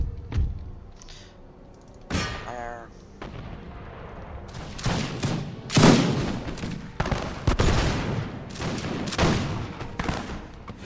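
Musket volleys in Empire: Total War, several sharp, crackling gunfire bursts and ragged rolling volleys with thuds, loud and close, under a busy game soundscape.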